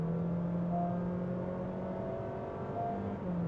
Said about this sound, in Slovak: Potom sa ten motor vyženie do vysokých otáčok